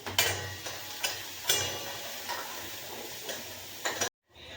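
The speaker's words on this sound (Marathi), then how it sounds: "कांदा मिरचीला चांगलं करून घ्यायचं आपल्याला मी भाजून घेतलेली आहे थोडीशी मस्त भाजलेली आहे खरपूस" Onion and green chili roasting in a pan, with a faint continuous sizzle broken by periodic scraping stir strokes, quiet and close, ending abruptly.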